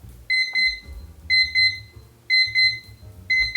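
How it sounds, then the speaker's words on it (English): A digital kitchen timer beeps in quick bursts of four, repeating about once a second, clear and close with a faint low rumble beneath. "It's just a nice beep, beep, beep, beep, beep, beep."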